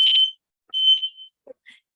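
A fire alarm gives short, shrill electronic beeps, a few clipped tones spaced irregularly with silence between them, heard alone without talk.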